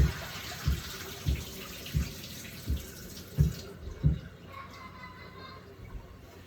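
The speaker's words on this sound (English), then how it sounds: "Drain this out." Water draining out of a pan of soaked sweet potatoes into a kitchen sink, rushing flow with several regular thumping splashes, then a quieter trickle, close by with no talking.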